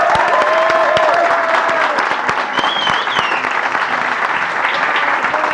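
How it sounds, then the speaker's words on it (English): A startup-event audience in Barcelona giving a standing ovation: loud, dense, sustained applause with cheering and a few whistles cutting through, continuous throughout. "give Juan the biggest rock star applause ever"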